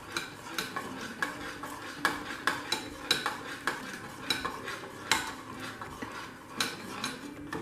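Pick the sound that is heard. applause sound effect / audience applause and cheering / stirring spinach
stirring spinach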